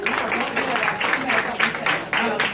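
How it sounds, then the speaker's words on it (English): A crowd applauds with dense, steady clapping that carries on throughout, fairly loud and close. "round of applause for the first question."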